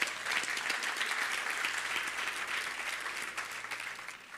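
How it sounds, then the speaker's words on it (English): Audience applause after a lecture at a foundation's annual lecture event: sustained, even clapping from a hall full of listeners, moderately distant, tapering slightly at the end. "I think he deserves a big round of applause."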